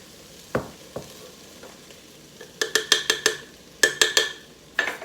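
Garlic goes into a pan of softened vegetables and is stirred as it sautés: a spoon scrapes in quick rhythmic strokes, loud and close, over a faint sizzle, with no one speaking.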